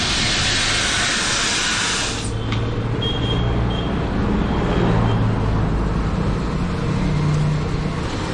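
A motorcycle tyre, a Ceat Rad X1 on an NS200, is inflated with air: a loud, steady rushing hiss for about two seconds that cuts off abruptly, leaving a low rumbling background.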